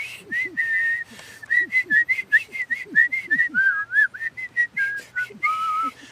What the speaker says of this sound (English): And in lieu of having a fiddle, let's do it whistling.